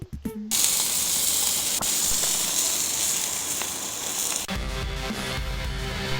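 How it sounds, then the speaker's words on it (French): A burger patty sizzles on a barbecue with a loud, steady hiss that holds for several seconds, then cuts off abruptly and gives way to quieter background noise. "Et ensuite, je vais le cuire sur le barbecue."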